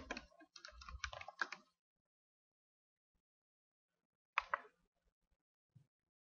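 Quick clatter of typing on a computer keyboard while entering a search for a professional learning community group, a burst of keystrokes followed by silence and a couple of isolated taps, close and fairly faint.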